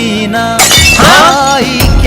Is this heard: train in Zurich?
no